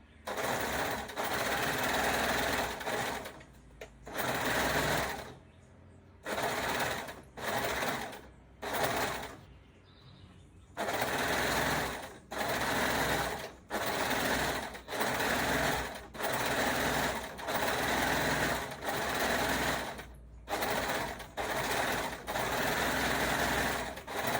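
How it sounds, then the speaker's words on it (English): Serger overlock machine stitching along the bottom of a skirt waistband, running in loud close bursts of high-speed whirring separated by short pauses, with no talking. "let's serge the bottom of this waistband"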